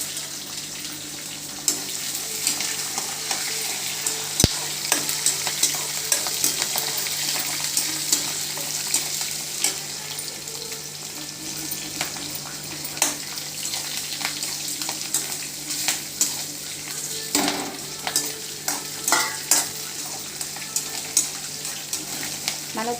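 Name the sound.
frying ginger, green chillies, curry leaves for pulihora tempering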